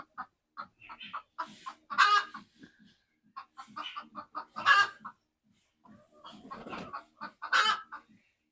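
A hen clucks and fusses close by in short bursts of rapid clucks, broken by louder squawking cries and brief quiet gaps.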